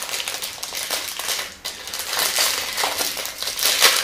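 Plastic packaging around a set of cheap paintbrushes is torn open along its sides, giving steady close crinkling and crackling throughout with a brief dip midway.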